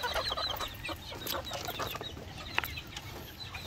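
Young Rhode Island Red and Black Australorp cross cockerels on the ground outdoors, clucking and chirping steadily up close over a busy background of other birds.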